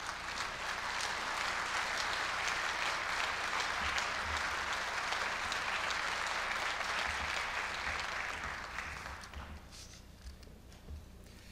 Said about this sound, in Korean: 큰 박수로 무대 위로 모시겠습니다.